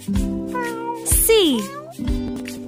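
A single cartoon cat gives a loud, drawn-out meow with a falling pitch, set between sung or spoken phrases in a children's alphabet song with background music.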